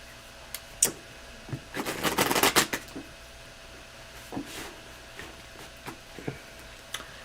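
Soft papery riffling and flicking, a burst of rapid card shuffling in the middle followed by a few scattered taps and slaps.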